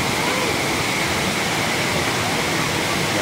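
Water pours over Wawa Dam in Montalban, Rizal, a steady, loud, broadband roar close by that never lets up and drowns out everything else.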